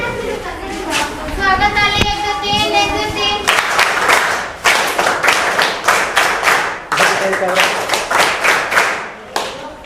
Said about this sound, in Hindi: स्वागत ताली के साथ उनका बच्चे लोग स्वागत करते हैं